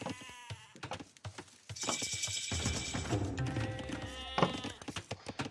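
Sheep bleat repeatedly in the Age of Empires strategy game, several short game-sound bleats spread across the clip amid clicks and other interface sounds, with no talking.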